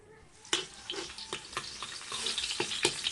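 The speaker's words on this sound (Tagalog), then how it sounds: "igisa natin yung ating ahos at saka red onion" Garlic and red onion sautéing in hot cooking oil, a bright steady sizzle with a few sharp clinks of a utensil stirring in the pan, close by.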